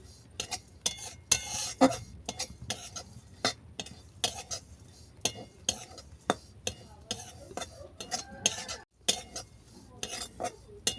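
A spoon scrapes and clinks repeatedly against a pan as oats are stirred and dry-roasted, with frequent quick strokes in a steady, close rhythm and a faint sizzle underneath.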